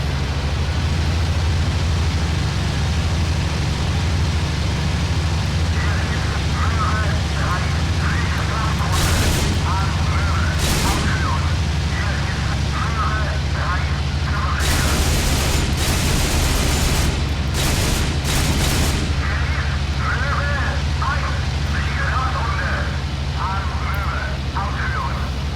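Anti-aircraft guns at an airstrip's air defenses open fire in the IL-2 flight combat game: several sharp booms and short bursts go off over a steady engine drone, while someone talks throughout.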